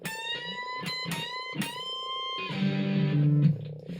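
A sustained electric guitar note holds steady, then drops suddenly into a lower, buzzing rumble as the bent string is let go.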